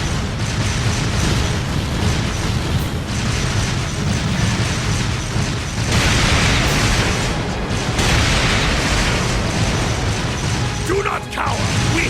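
A barrage of explosions from the Trails of Cold Steel II video game forms a loud, unbroken wall of booms, bursts and mechanical rattling that lasts the whole stretch.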